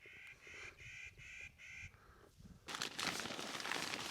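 Outdoors in the morning on Quartz Mountain, a bird gives four evenly spaced, nasal honking calls close by, followed after a brief pause by a louder burst of rustling, flapping noise.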